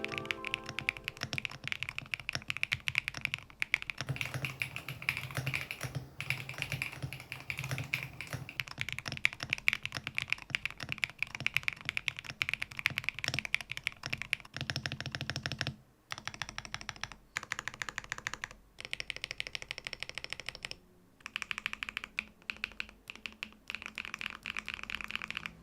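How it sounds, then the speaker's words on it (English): Continuous fast typing on a QK101 gasket-mount 100% mechanical keyboard with deep, muted, creamy, thocky keystrokes, close up and steady, with a few brief pauses and no voices. "we have a more creamy and thocky sound profile"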